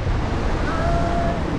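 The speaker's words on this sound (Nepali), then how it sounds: "खदम खोला है गाइस यो चाहिँ" Khadam river rushing below a suspension bridge, a dense, steady roar of flowing water mixed with gusty wind buffeting the microphone, loud and continuous throughout.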